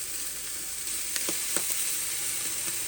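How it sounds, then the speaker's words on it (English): Pork fat sizzles in a pan for Kansas City style barbecue, giving a continuous bright crackling hiss with small pops scattered through it, close and steady, with no voices. "you can see it sizzling"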